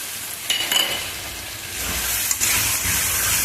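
Pointed gourd and prawns sautéing with spices in a hot pan, a steady loud sizzle and hiss with occasional stirring scrapes, continuous throughout with no talking.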